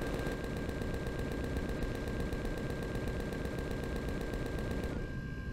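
Sustained rapid automatic gunfire from a weapon in Empyrion Galactic Survival, a steady unbroken burst of loud shots attacking a base that cuts off abruptly near the end.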